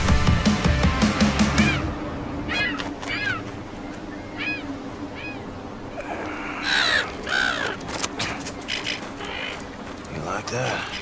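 Harsh cawing from a bird in Wolfenstein II, several separate rasping calls spread over the clip, mixed with game sounds and a voice talking.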